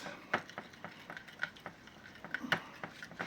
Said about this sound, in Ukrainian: Тепер перемішуємо